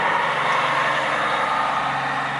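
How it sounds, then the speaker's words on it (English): A big truck passing on a road outside during work on a 2017 Jeep Wrangler JK, a loud steady engine rumble and road roar filling the whole stretch with no talk. "Big truck just drove by."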